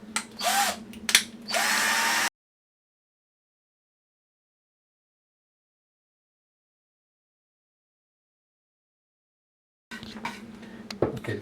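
A small 2.5 mm drill bit bores screw holes while a bioreactor is assembled: two or three short whirring bursts up close, then a long silence before quieter mechanical handling noises return.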